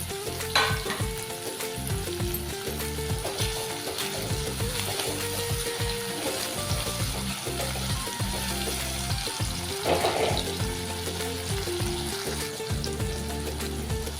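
Chopped tomatoes frying in a pan for a potato tomato gravy curry, a steady close sizzle throughout with occasional stirring scrapes and no talk.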